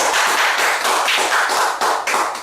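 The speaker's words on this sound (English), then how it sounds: "Round of applause, people." Audience applause at a 2013 CSEC graduation ceremony for Apex Education, loud dense clapping in steady waves that stays close and full for the whole stretch.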